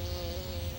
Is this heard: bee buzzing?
yes